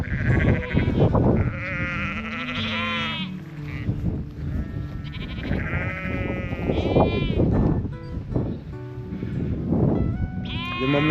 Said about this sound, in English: Looks like the sheep don't like us.